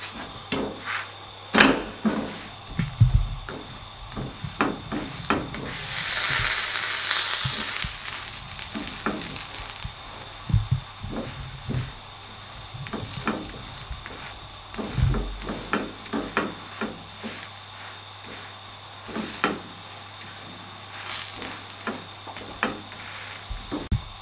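A cheese-stuffed paratha fries on a pan over a slow flame, giving a soft, steady sizzle with scattered taps and scrapes of a utensil, close by and moderate in level.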